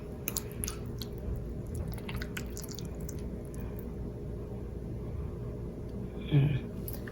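Someone eats canned beef ravioli while hot, making soft, wet chewing and squishing sounds close to the mic over a steady low background hum, with one louder bite near the end.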